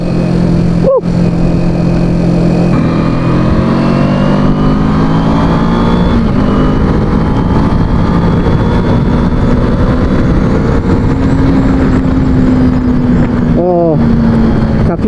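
A Kawasaki Ninja 250 motorcycle rides hard in the rain with a worn-out rear brake, its engine droning loud and close throughout and shifting pitch between gears, while rushing wet road noise fills the background.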